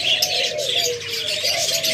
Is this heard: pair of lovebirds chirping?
yes